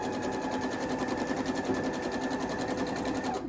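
A sewing machine stitches quilt block columns together in a fast, even, rapid-fire whir, running steadily up close for about three and a half seconds before stopping.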